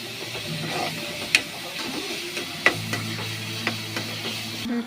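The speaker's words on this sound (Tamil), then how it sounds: "அது போட்டு இந்த மாதிரி நல்லா வதக்கணும்" Small onions sautéing in a pan with a pinch of salt, giving a soft steady sizzle close by, broken by a few sharp clicks of stirring.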